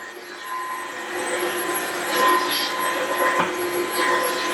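A Dreame H15 Pro CarpetFlex wet and dry vacuum mop runs with a loud, steady suction roar as it sucks up debris along a wall, rising slightly midway.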